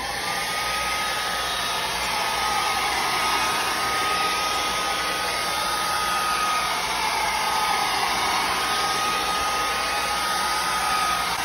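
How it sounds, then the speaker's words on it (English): Hair dryer blowing steadily to dry freshly sprayed colorant on a surface, a loud, continuous whooshing hum that holds an even level for the whole stretch with no talking. "take your hair dryer and dry it"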